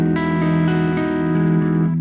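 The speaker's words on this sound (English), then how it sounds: "I'm now going into the Fender Bassbreaker 15 on the clean or the low mode, right? No reverb or anything." Electric guitar played through a Fender Bassbreaker 15 amp on its clean, low mode with no reverb: a smooth, slightly warm chord rings out with sustained, layered notes, restruck a few times and held steadily for about two seconds.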